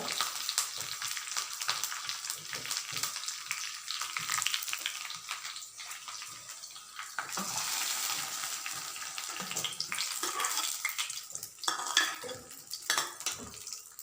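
Onions and curry leaves frying in hot oil for a sambar tempering, a steady close sizzle with occasional clinks and stirring of a metal pan, no talking.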